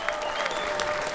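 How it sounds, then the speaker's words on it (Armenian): A studio audience at an Armenian television talk show applauds loudly, a dense, steady burst of many hands clapping together for a short stretch. "Բարձր ծափարենք"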